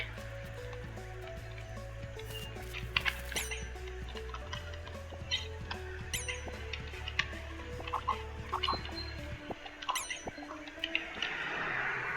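Chickens cluck repeatedly at a chicken shop in the Dinkum farming video game, a busy stream of short clucks and squawks over a droning game music bed that cuts out near the end.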